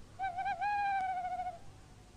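An owl gives a single hooting call, two short clear notes followed by a longer sustained hoot, heard alone against a quiet background.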